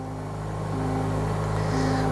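A push-button-start petrol car engine runs with a steady low hum that swells slightly in level, alone and close by.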